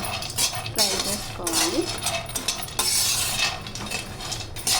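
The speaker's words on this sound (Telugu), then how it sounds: "కొంచెం కలర్ చేంజ్ అయ్యే వరకు బాదం కూడా ఫ్రై చేసుకోవాలి" Almonds fry and get stirred in a kadai for a dry fruit laddu, with a steady broadband sizzle and scraping stirs throughout, and a voice talking faintly in the background.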